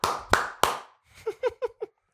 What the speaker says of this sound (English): I always clap in odd numbered amounts of claps